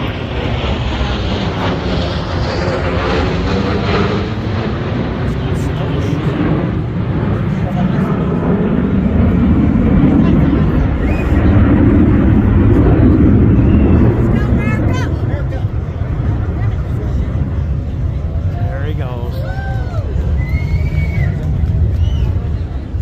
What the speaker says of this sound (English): That was the B-1 bomber flyover.